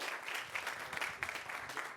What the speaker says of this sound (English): Please give a round of applause for Vimal.